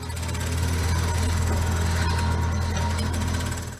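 Construction noise from a jackhammer pounds continuously at close range, a loud dense rattling hammer with a heavy low engine drone underneath and no pauses.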